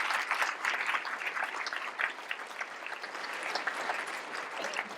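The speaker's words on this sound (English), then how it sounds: "I think we need to give a round of applause to Judge Velas" Crowd at a cathedral rally applauds for a judge, a moderately distant, sustained patter of many hands clapping with no speech over it.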